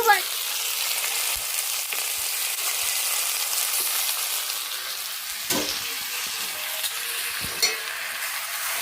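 Chicken, onion and green chilli sizzle steadily in a hot pan for a home-cooked chicken sherva, with a few clacks of a spoon stirring through the mix and no talking.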